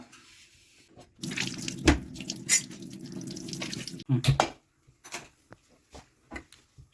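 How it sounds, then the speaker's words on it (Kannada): Soaked jowar grits are washed by hand in water, giving a few seconds of close swishing and sloshing, then scattered splashes and drips with quiet gaps between them. "ಇದೆಲ್ಲ ಮ್ಯಾಗ ತೌಡು ಬಂದೈತೆ ಚಲೋತಾಗ ತೊಳಿಬೇಕ್ರಿ ಎರಡು ಸತ"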